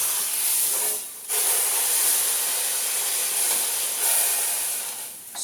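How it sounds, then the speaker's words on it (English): Beef roast searing in a hot pan at high heat, a steady loud sizzle and hiss that dips briefly near the start and swells again later, with no talk. "So we're searing all sides, all around, top and bottom, at a high heat."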